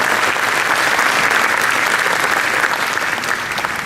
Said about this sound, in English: Can we have a round of applause for all three of the non-profits?